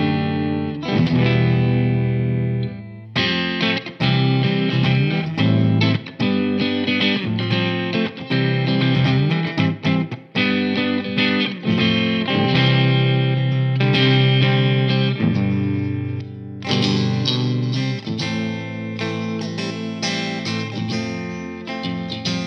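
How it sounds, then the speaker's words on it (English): An Ibanez JEM Jr electric guitar on its clean channel plays through heavy modulation and reverb effects, sustained chords and notes ringing continuously and loudly with a shimmering, slightly distorted, almost sitar-like texture. "Let's get some actual clean tones now, the clean channel."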